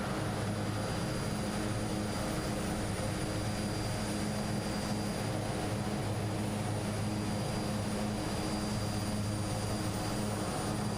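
Twin Otter aircraft engine droning steadily in a flight simulator, flying over North Scotland at sunset; a constant, loud propeller and engine hum with a fixed high whine, alone and unbroken throughout.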